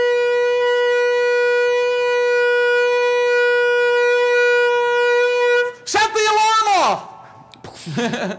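A shofar holds one long, steady, brassy teruah blast for several seconds. A loud voice then cuts in near the end and partly overlaps the fading horn.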